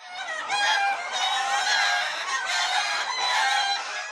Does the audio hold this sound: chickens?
yes